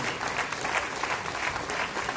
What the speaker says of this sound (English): That itself calls for a big round of applause for Agra Trade.